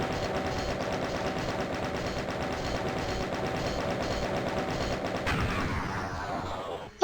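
A chain gun in DOOM fires continuously in a dense, loud, mechanical stream of rapid shots for about five seconds, then cuts off, leaving a short fading tail.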